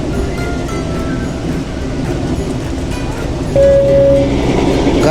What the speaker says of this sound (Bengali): পাহাড় আর খাত এই দুটির পাশ দিয়ে আমাদের টয় ট্রেন এগিয়ে চলেছে